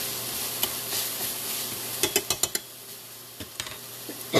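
Spices sizzling as they heat in a pan, a steady soft frying hiss broken by a quick cluster of sharp utensil taps and scrapes against the pan, close and fairly quiet.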